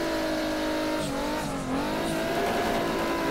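Toyota Supra drifting in rFactor 2, its engine droning loud and steady while the tires scrub and skate as the front wheels lock, the pitch dipping briefly midway before climbing again.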